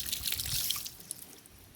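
Water trickles and drips at a sink while scallion and thyme are washed for a rice and peas pot, a brief splashy run fading into a few faint drips.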